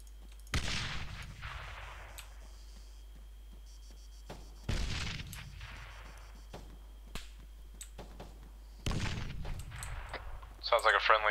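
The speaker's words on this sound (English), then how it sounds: "Sounds like a friendly using the Zephyr." Zephyr machine gun fire in the ARMA 3 military game comes as three heavy, booming bursts spaced a few seconds apart, each rolling off into a long echoing tail, with fainter pops and clicks between them.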